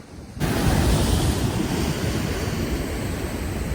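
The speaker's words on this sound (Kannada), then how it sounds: "ಈ ಒಂದು ಸಮುದ್ರದ ಅಲೆಗಳು ಯಾವ ರೀತಿ ಬಂದು ಬಡಿಯತ್ತಂತ ಹೇಳಿ ಎದೆ ನಡುಗಿಸುತ್ತೆ" Heavy surf pounds the Alvekodi shore at Bhatkal, where sea meets river after heavy rain: a continuous close, loud roar of breaking waves with wind, starting abruptly after a brief quieter moment.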